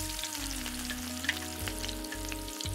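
Chopped onions sautéing in a quarter cup of hot oil with bay leaf, star anise, cloves and cardamom, frying steadily with a continuous close sizzle and a few faint clinks, no talk.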